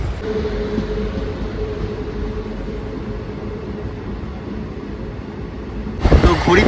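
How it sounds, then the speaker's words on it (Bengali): A departing passenger train bound for Kharagpur rumbles steadily on the rails from inside a carriage, with a louder burst of clatter near the end. "তো ট্রেন আমাদের ছেড়ে দিল।"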